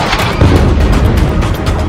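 Loud, dense rumbling blasts and booms from bombardment in the Gaza war, with artillery, rockets and airstrikes hitting Hamas positions. They roll on continuously, with no clear breaks between impacts.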